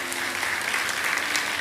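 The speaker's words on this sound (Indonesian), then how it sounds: "kasih tepuk tangan untuk Tuhan" Church congregation applauding during a sermon, a brief even wash of clapping at moderate distance with no voice over it.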